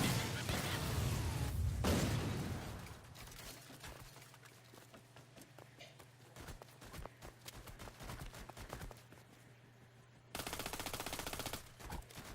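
Rapid automatic gunfire from a commando turret in the video game Borderlands 2, a steady rattle of shots following an opening loud burst and giving way to a denser volley near the end.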